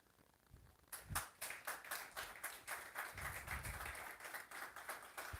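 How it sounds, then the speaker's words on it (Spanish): A church congregation claps during a sermon on prayer, sharp distinct hand claps falling into a loose rhythmic beat, moderately close and fairly quiet overall. "Yo le daría un aplauso al Señor."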